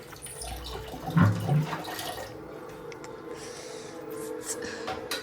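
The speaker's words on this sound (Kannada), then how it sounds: "ಸ್ವಲ್ಪ ಅದಕ್ಕೆ ನೀರನ್ನು ಹಾಕಿಕೊಂಡು ಹಳ್ಳಾಡಿಸಿ ಹಾಕೋಣ" Water splashes into a pan of cooking mutton keema and sloshes as it is swirled. A brief pour swells early on, then settles into softer liquid movement.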